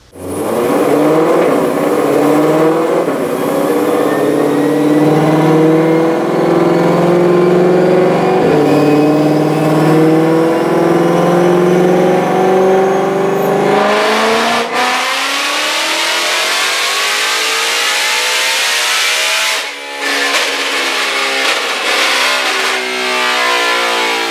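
A 2020 Ford Mustang GT500 with its supercharged engine on a dyno, a loud close roar climbing steadily in pitch through a full pull with supercharger whine, then dropping back into rough, lower revving before settling.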